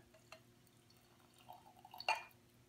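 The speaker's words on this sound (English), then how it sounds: "and pour it into the cup" Tea tipped from a bowl into a cup, a few small drips and then a brief, fuller trickle of liquid near the end.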